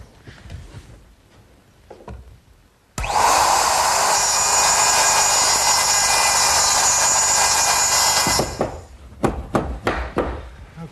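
Router cutting a tenon on a cross rail guided by a clamped template, a loud steady high whine running for about five seconds after a quieter stretch, then cutting off into scattered workshop clatter.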